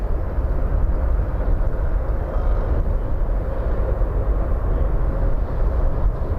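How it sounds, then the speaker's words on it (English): An Air Canada Boeing 787 Dreamliner arriving from Vancouver at Toronto Pearson at night makes a steady, broad jet roar with heavy low rumble, continuous and fairly distant, with no voices. "Dreamliner from Vancouver, Air Canada 184"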